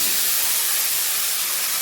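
Vegetables including carrot, potato and a little taro sizzle steadily in a hot wok, a loud, continuous hiss filling the whole moment with no voices.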